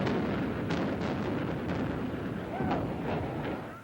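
A deep, rumbling blast roars continuously with thuds and crackles, the massive distant demolition explosion of the Hotel Newhouse in 1982, slowly fading toward the end.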